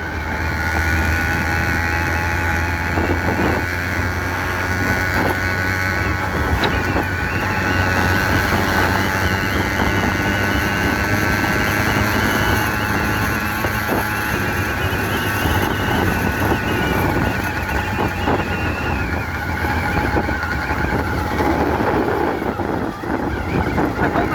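A small two-stroke engine on a worn motorized bicycle idles steadily with no idle strip, a continuous loud buzzing drone with slight wavering that persists for the whole stretch without pauses.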